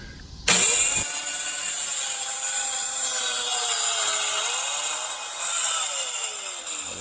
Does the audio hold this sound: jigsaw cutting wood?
yes